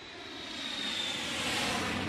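A cartoon airplane drones past in flight, a steady broadband engine roar that swells slightly louder over two seconds, with no voices.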